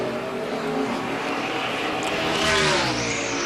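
A NASCAR Sprint Cup race car screams past during qualifying at Dover in 2015, its loud engine note climbing in pitch as it accelerates and sweeps by.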